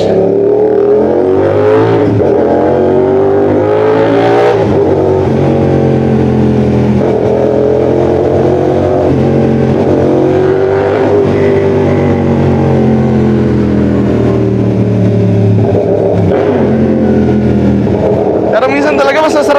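A CFMOTO 450SR motorcycle is ridden at night, its engine droning loud and close and rising and falling with gear changes and revs while someone talks over it throughout.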